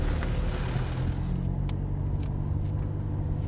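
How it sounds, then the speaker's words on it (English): A Volkswagen Golf Mk7 diesel drives along, heard from inside the cabin as a steady low engine and road rumble. The rumble is constant and moderately loud, with a few faint clicks and no speech. "see what this Mk7 Golf is like to drive"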